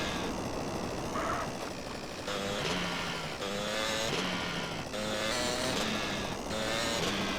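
A car engine drones steadily and revs up and down in GTA San Andreas with the GTA Underground mod, heard alone at close range with several rising gear-like pitch sweeps.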